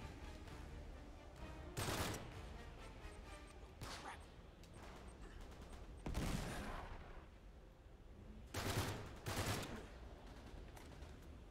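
Sporadic gunshots in the Uncharted 3: Drake's Deception video game, several sharp bursts spaced apart over a steady low background, with a voice speaking briefly between shots.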